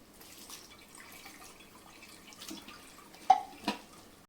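Quiet splashing and trickling water in a container, with a couple of louder sloshes near the end as fenugreek leaves are rinsed.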